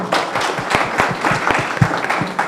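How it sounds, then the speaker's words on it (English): An audience at a 2022 interuniversity World Refugee Day gathering claps for the Kenyan hosts, a steady, fairly close round of applause lasting a couple of seconds. "So I think the Kenyan hosts deserve a clap for that"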